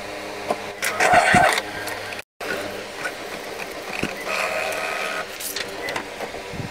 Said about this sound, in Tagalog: Try ulit natin mag nozzle check.